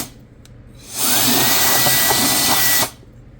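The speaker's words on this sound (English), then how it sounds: "I do have this little pretty powerful air duster" A powerful electric air duster blasts dirt out of a hole in a 3.5L V6 Chrysler Sebring engine, one loud steady whooshing roar lasting about two seconds, close up, with no talking.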